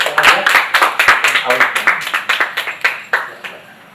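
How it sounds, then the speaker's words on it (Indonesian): Audience members clap at a prize-draw ceremony for a roastery promotion, the claps distinct and rhythmic, close and fairly loud, gradually thinning and fading toward the end. "Kita beri tepuk tangan dulu semua Bapak Ibu."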